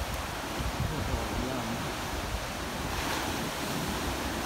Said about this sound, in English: The ocean's nice and calm.